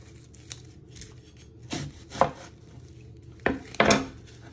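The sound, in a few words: knife chopping the ends of vegetables for lettuce rolls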